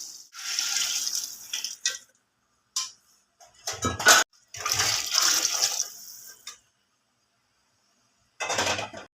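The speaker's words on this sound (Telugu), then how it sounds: "ఆరు గ్లాస్ నీళ్ళు పోస్తున్నాను" Water is poured from a glass in several separate bursts, splashing and gurgling into a pot of rice, with short silent gaps between pours.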